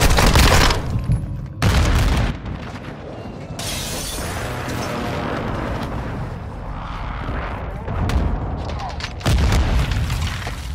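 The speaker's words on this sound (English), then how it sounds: "Friendly airstrike in the AO." Heavy airstrike explosions in the military shooter Call of Duty Modern Warfare 2, several loud booming blasts with rumbling debris between them, spread across the clip amid continuous battlefield noise.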